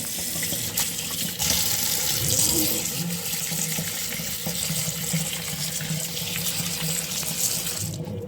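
Pumpkin seeds being rinsed under a running kitchen tap, a steady, fairly loud hiss and splash of water pouring into a sink that continues throughout, with no one talking.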